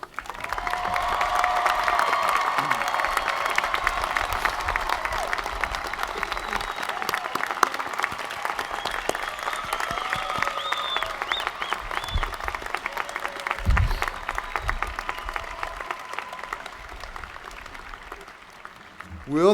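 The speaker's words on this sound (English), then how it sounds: "Let's now recognize and applaud these graduates." Sustained applause from a large audience honoring graduates at a college commencement ceremony, a steady dense wash of clapping that holds for nearly twenty seconds with faint voices mixed in.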